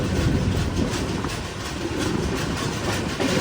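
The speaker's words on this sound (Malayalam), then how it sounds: "കൊല്ലം ജംഗ്ഷൻ റെയിൽവേ സ്റ്റേഷനിലേക്ക് ഇതാ നമ്മുടെ ട്രെയിൻ എത്തിക്കൊണ്ടിരിക്കുക" Express train pulling into Kollam Junction station, a loud, continuous rumble of wheels and carriages with faint rhythmic clatter, heard close up from on board.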